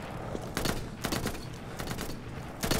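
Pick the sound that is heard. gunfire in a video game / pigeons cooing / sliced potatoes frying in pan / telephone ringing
gunfire in a video game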